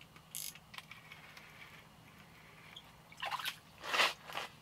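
An ice fishing reel's drag gives short ratcheting clicks as a fish takes line on a spoon, with a few faint clicks early on, then several louder buzzing bursts close by near the end and no talk.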